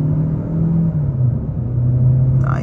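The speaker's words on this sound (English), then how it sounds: "But one more time, guys, about half throttle." A 2023 Kia K5 GT-Line, front-wheel drive, accelerates at half throttle, giving a steady low engine rumble heard from inside the cabin with little change in pitch.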